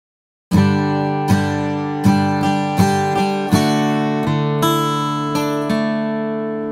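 An acoustic guitar mixes strummed chords with single picked strings in an even, repeating rhythm, each attack ringing out bright and close, with no voices.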